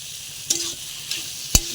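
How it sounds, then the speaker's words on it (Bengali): Boiled mung dal being stirred and fried with pointed gourd (potol) and potato in a pan, producing a steady soft sizzle broken by two sharp spoon scrapes and clanks against the pan. "এই পটল আর আলুটার সঙ্গে ভালো করে মুগ ডালটাকেও কষিয়ে নিতে হবে"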